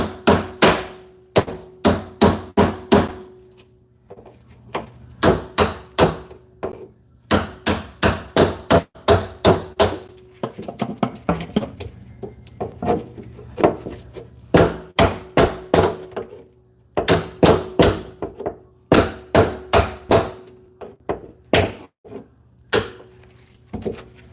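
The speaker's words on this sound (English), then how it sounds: "you can enjoy the old hammering here as I make it happen" A hammer striking a chisel to break apart a kitchen sink, with sharp metallic blows that come in rapid clusters of three to five and short pauses between them, loud and close throughout.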